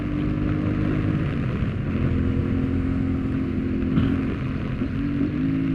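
A motorcycle rides over a bumpy concrete road, its engine droning steadily and loudly up close with a jittery, rough texture from the uneven surface, no talking heard.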